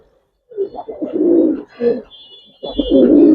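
Pigeons at a breeding farm cooing close by, a pair sold together, with a sequence of low, throaty coos in rounded bursts and brief pauses between them.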